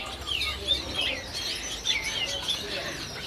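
Caged birds at a bird-market kiosk in Pasar Pramuka, including snapper and bondol finches, chirp in quick bright tweets, several overlapping calls repeating close by over a steady background hum.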